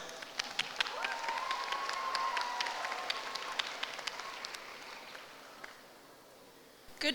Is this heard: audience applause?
yes